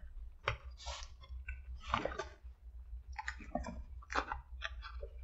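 Close, quiet chewing of a McDonald's Aussie Angus burger with onions and sauce, with moist, clicky mouth sounds coming in irregular bursts and no talking.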